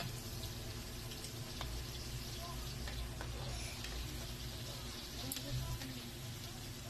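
Pork and onion fry in a pan for chop suey, a steady low sizzle and crackle that runs evenly throughout with faint utensil clinks on top and no talk.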